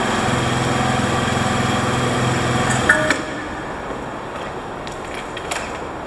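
A Honda Spacy scooter engine runs steadily just after a battery change, giving a continuous buzzing drone for about three seconds before it drops to a quieter, rougher idle.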